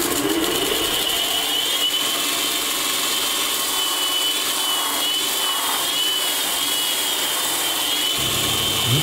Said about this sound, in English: So for that, onto my vertical sander.